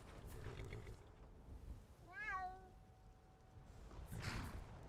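A cat meows once in the video game Skyrim, a clear, rising-and-falling mew in the middle, set against quiet ambient game sound with soft breaths around it.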